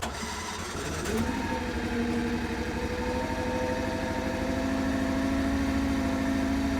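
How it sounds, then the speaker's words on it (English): A MachPro MP30 mini excavator's engine turns over and settles into a steady, close idle, a continuous mechanical drone with a faint rising whine that holds to the end. "let me put this in idle and we'll fire it up again"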